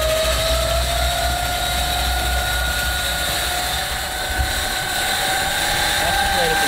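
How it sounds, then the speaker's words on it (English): Swardman Electra electric reel lawn mower cutting yard grass, a steady whirring hum with a tonal motor whine running throughout, close and fairly loud. "let's give the yard a mow and just see how it goes"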